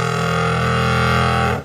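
Bass guitar run through an MXR Blowtorch bass fuzz pedal with the gain cranked, giving one loud, sustained, heavily saturated fuzz tone that holds steady before cutting off abruptly.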